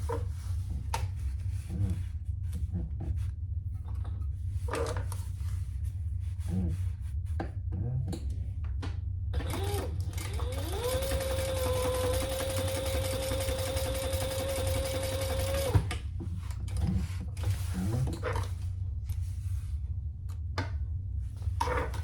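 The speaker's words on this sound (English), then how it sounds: "sew along the sides at a seam allowance in the pattern." Sewing machine running steadily for about five seconds as it stitches the side seams of a crossbody bag, a sustained motor hum with quieter handling noises before and after.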